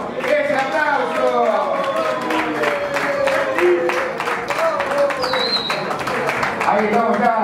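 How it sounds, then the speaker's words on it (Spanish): Audience applause and cheering at a ninth-anniversary live variety show, sustained clapping from a crowd with a host's voice talking over it, steady and loud throughout. "¡Ese aplauso!"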